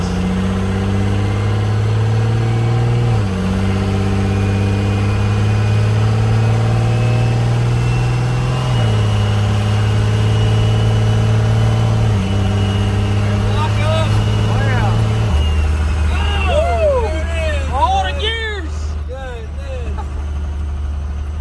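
A Cummins diesel swapped into a Chevrolet Squarebody pickup runs loudly and close through several gear changes as it pulls away, its pitch stepping down at each shift, while people talk over it.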